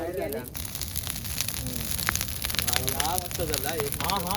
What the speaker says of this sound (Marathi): हा बघा पेटवलाय नदीच्याच बाजूला आग जोड झाली अजून आगीची गरज आहे